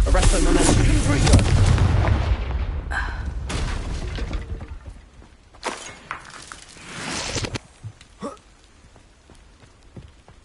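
Confringo blasting-spell explosions in the video game Hogwarts Legacy: a dense, loud rumbling barrage that gives way to several separate sharp blasts and crackles, with quieter gaps between them.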